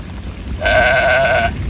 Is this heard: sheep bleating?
yes